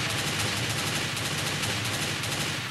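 Sustained automatic gunfire from a video game shooter, a dense unbroken stream of rapid shots as a gun's magazine is fired off, loud and continuous throughout with no talking.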